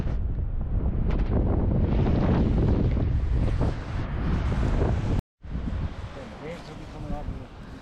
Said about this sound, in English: Wow, the waves come in there so fast.